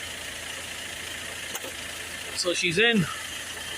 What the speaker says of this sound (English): Right, the engine is running